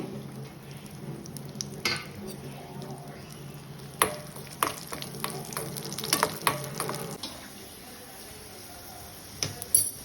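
Cashews, raisins and a few cloves fry in a pan for festive broken-wheat payasam, giving a soft steady sizzle with scattered stirring scrapes and light clinks of utensil on metal throughout.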